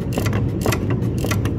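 A hand ratchet tightens a bolt back onto a Jeep WJ, giving steady rhythmic clicking strokes up close over a dull mechanical background.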